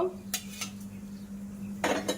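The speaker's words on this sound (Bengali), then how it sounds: "ঘির মধ্যে নাড়াচাড়া করে নেব।" Whole cardamom pods and cinnamon sticks are stirred in ghee in a metal pan, with a spoon giving a few sharp clinks and scrapes against the pan over a low steady hum.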